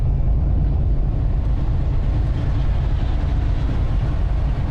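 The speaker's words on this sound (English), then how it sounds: "Here's a train." A train rumbles past at steady volume, a dense low-pitched roar with a faint rattling texture that holds level throughout.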